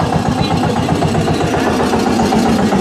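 A tractor engine idles steadily at the Talwandi Sabo tractor market in Punjab, a loud, continuous chugging throb that stays close and unchanging throughout.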